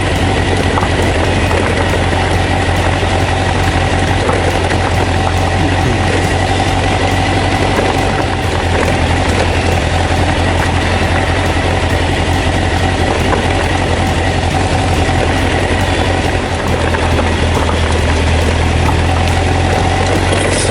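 A Honda CBR1000F motorcycle engine at a low, steady rumble as the bike putts slowly along a very loose gravel road, loud and continuous with wind and road noise throughout.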